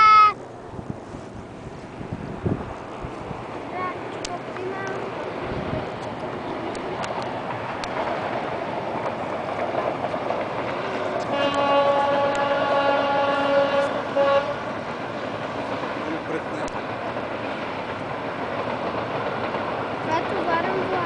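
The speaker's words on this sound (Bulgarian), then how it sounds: "Я, влакчето минава!" Freight train passing near Lakatnik station, a steady rumble with rhythmic wheel clatter and faint tonal bands growing louder midway, under murmuring voices outdoors.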